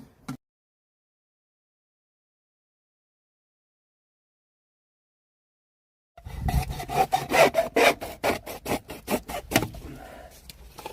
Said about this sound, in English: Quick and easy with a hacksaw.